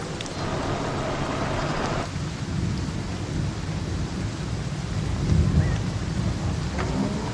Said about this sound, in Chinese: 一场更大的暴雨挡住人们的出行